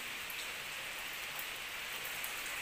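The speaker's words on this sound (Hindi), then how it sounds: "आवाज़ आ रही होगी आपको बारिश की बूंदों की" Heavy rain pours down steadily on a surface, a dense, even hiss of countless raindrops with no pauses and no voices.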